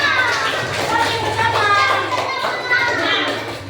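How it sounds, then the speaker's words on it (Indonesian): Elementary school pupils in an Islamic classroom clap their hands in a lively burst, mixed with children's chatter and an adult voice talking over the clapping. "Tepuk tangan untuk semua."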